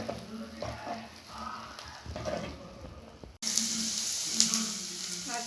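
Ingredients sauté in butter in a pan with a soft steady sizzle, which grows abruptly louder and brighter partway through as fresh contents hit the hot fat; no talk.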